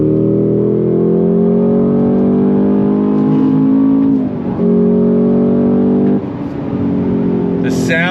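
A Cadillac CT5-V Blackwing's LT4 supercharged V8 roars loudly up through the revs, dipping briefly at a couple of gear changes before pulling hard again, close and steady with no talk over it.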